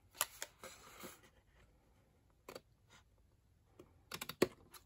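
Scissors snip through the material of a Christmas tree decoration gift box. Quiet, sharp clicks come in a quick cluster, then a few isolated snips, then another burst, all close and soft in an otherwise hushed room.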